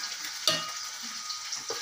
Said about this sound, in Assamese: আৰু ইয়াৰ সমানে সমানে এয়া মাছ ফ্ৰাই কৰি থকা হৈছে।